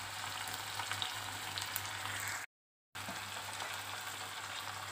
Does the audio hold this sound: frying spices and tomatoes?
yes